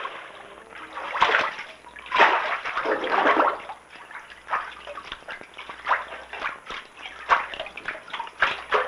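Paper fibres of kozo and mitsumata are stirred by hand in an icy vat of water for washi papermaking, giving irregular sloshing and splashing surges that rise and fall throughout, with no voices.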